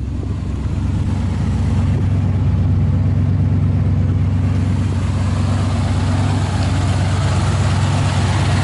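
A Chrysler Newport engine idling with the hood up, a loud, steady low rumble that runs unbroken and close throughout, with no voices over it.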